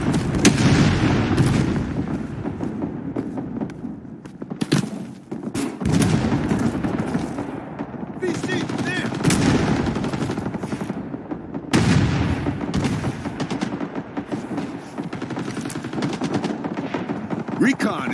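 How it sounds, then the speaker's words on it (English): Gunfire in the Vietnam War video game Rising Storm 2: Vietnam: bursts of machine gun fire and single rifle shots crack continuously, some close and loud, others farther off, with game voices faintly mixed in. "Enemy fire incoming!"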